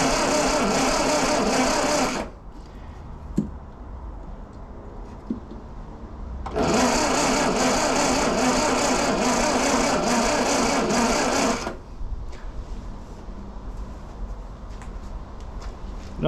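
A 1974 Classic Mini engine cranking without firing, two loud, even, rapid whirring bursts of several seconds each separated by a quieter pause with a few faint clicks, heard up close.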